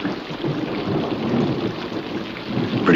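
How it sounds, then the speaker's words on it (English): Steady rain hisses alongside a low rolling rumble of thunder, a dense continuous wash of storm noise with no voices. "It's beginning to rain."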